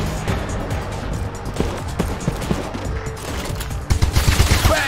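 Gunfire from the sci-fi tactical RPG Showgunners crackles in dense bursts over a loud, busy game mix. A sharper volley lands near the end.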